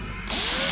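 A power drill bites into the body of a Kubota RTV 1100 utility vehicle. It whines up suddenly and loudly, close by, in one short burst.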